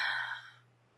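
A single deep breath, likely an exhale, taken during a mindfulness meditation, soft and close, fading into quiet within a second, with a low steady hum underneath and no talking.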